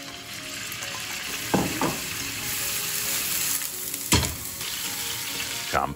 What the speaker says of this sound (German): fangen mit den Zwiebeln und den Karotten an. Die werden auch einmal leicht durchgeschwenkt und angeschwitzt.